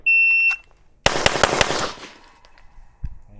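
Rapid string of pistol shots from a Glock 17 Gen 6 firing practice ammunition at a shooting range, several sharp close reports in quick succession after a brief high electronic beep, then one fainter shot.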